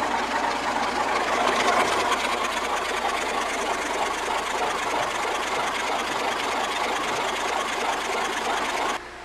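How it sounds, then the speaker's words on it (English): The engine of a 1968 Ford Mustang California Special under restoration runs steadily at close range, a loud continuous mechanical roar with rapid knocking texture, cutting off abruptly at the end. "the motor sounded good"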